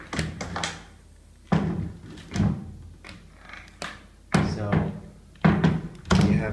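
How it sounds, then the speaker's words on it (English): Front door of a lodging in Bali that doesn't close fully: a series of loud, close thuds, bumps and knocks as it is pushed and moved, with brief talk between the impacts. "front door to our place doesn't close all the way"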